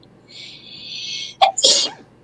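A single sharp sneeze, preceded by a brief inhaling build-up, heard up close in an otherwise quiet room.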